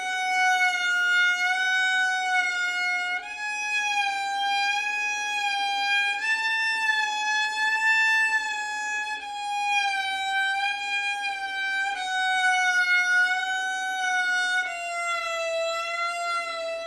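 A violin holds sustained notes with a slow, wide vibrato that bends pitch up and down like a wailing siren, played alone and steadily.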